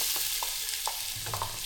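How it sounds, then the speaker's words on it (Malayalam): Mussels fry in a pan with a continuous close sizzle, broken by several small pops and scraping stirs, no voices. "കല്ലുമ്മക്കായ പൊരിക്കുന്നുണ്ട്."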